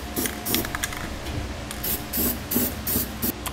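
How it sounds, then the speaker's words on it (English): Aerosol spray paint hisses in short bursts onto bare metal around holes drilled in a 2017 GMC Sierra truck bed for a B and W underbed gooseneck hitch, several quick close sprays with brief pauses between them. "we'll spray paint the bare metal so we don't have to deal with any rust"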